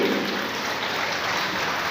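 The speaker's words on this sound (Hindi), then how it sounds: "एक बार जोरदार तालियां संदीप जी के लिए" Thick, continuous applause from a large crowd at an outdoor yoga day camp sounds like a steady wash of claps, loud and unbroken for the whole short moment.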